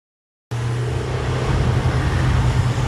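An old 1982 car drives along a road. After a half-second of silence, a steady, fairly loud engine and road rumble starts abruptly and holds with a low hum and broadband tire noise.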